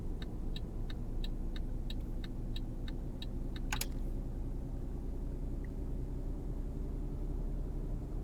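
Continuous low engine rumble of road traffic in Euro Truck Simulator, with a rapid run of evenly spaced ticks early on ending in a short sharp click, then steady droning.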